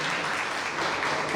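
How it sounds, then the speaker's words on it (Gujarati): An audience claps for a speaker at a youth book-talk event, a dense, even burst of applause filling the room. "આપણે પૂજાબેનને જોરદાર તાળીઓથી વધાવીએ."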